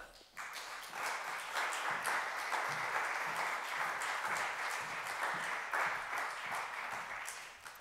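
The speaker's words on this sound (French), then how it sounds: "Je vous demande d'applaudir Madame Pérez." Steady applause from a conference audience greeting a speaker, fairly distant and moderate in level, holding evenly throughout before tapering at the close.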